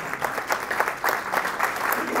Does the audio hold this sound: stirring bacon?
no